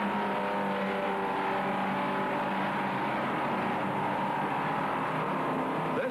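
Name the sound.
1965 race car downshifting and accelerating out of Sebring hairpin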